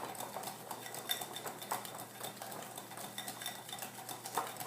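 Buttercream of confectioner sugar, coffee, cocoa powder and eggs beaten by hand in a bowl, a steady quick clatter and scrape of a whisk or spoon against the sides, close and fairly quiet, with no talk.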